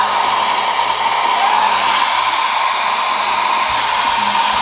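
A cheap budget hair dryer running steadily, a loud, even whirring blow with a constant motor hum, close up and alone without interruption.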